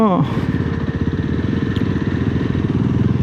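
A motorcycle engine rumbles steadily while riding on a road at night, loud and close with a rhythmic throbbing beat, and a brief voice is heard at the start.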